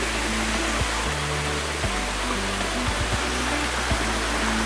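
A waterfall at Mt. Igatmon in Igbaras, Iloilo, roars as a loud, constant broadband rush of falling water, heard close and with no talking.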